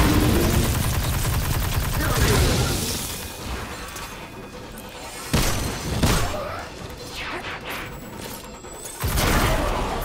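Enemy weapons fire in a Destiny 2 firefight, loud bursts of rapid shots and sharp cracks with a few sudden louder blasts, busy and continuous over roughly ten seconds.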